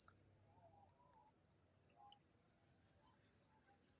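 Crickets chirp at dawn around 5:30 a.m. on an outdoor morning walk, a steady high-pitched pulsing trill that runs through the whole stretch with no talking.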